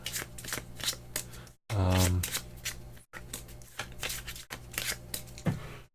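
Deck of cards for the Concordia board game being shuffled, with repeated riffling bursts separated by brief pauses and one louder thud of cards being squared, up close with light background talk.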